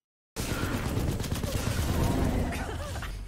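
Rapid automatic gunfire from an Apex Legends gameplay trailer starts abruptly after a brief silence and rattles on densely, loud and close, with a muffled impact near the end.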